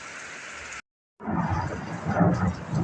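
Deep thunder from a tornado-producing storm rumbles loud and close, a steady roar that cuts out briefly and then swells again into a heavy rolling boom.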